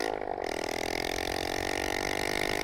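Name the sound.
motorcycle engine revving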